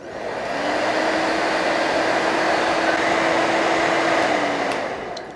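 A hair diffuser dryer runs for wave curling, switching on with a rising whoosh into a steady loud blowing hum with a faint motor whine, then winding down at the end.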